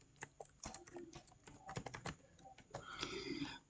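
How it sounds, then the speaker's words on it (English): Someone types on a computer keyboard while adding text in Photoshop, an uneven run of close, quick key clicks with short pauses between bursts, alone without talk. "So let me just start typing whatever I want to type."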